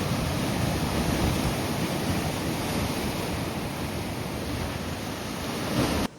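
Sea waves surging over coastal rocks where people are fishing, a loud continuous wash of surf and spray with a steady roar throughout, cutting off abruptly at the end.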